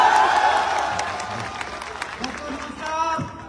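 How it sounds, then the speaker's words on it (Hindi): Audience applause at a large Hindi-language health event hall, a broad crowd clapping that starts loud and gradually fades, with some cheering and a voice talking over it. "अच्छा, ऐसे ताली होनी चाहिए अपने देश के लिए।"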